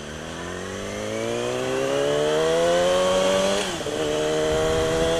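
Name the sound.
motorcycle engine revving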